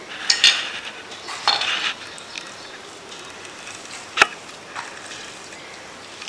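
Semolina is stirred slowly with a little ghee in a pan while making suji kakara pitha. A low frying hiss runs under a few sharp metal clinks and scrapes of the spoon against the pan. No one speaks.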